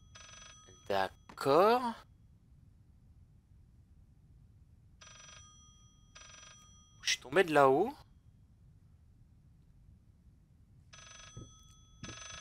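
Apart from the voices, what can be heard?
telephone ringing in the video game Layers of Fear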